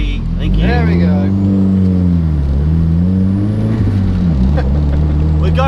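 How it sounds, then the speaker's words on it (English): A fake Lamborghini replica car drives on a motorway, its engine note a steady loud drone with rising and falling harmonic sweeps as it accelerates, while people talk over it throughout. "We're going on the motorway, Adam C."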